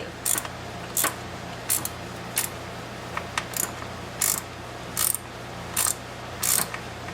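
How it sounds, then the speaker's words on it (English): A hand ratchet removing the valve covers from a poorly running engine, sounding as short bursts of rapid clicking, about nine of them spaced unevenly, close and crisp over a low steady background hum. "Taking the valve covers off."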